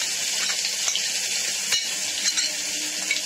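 Ginger, black pepper and cumin pastes sizzle and fry in hot oil in a pan for chicken khichuri, a steady close crackle broken by occasional clinks and scrapes of a stirring utensil.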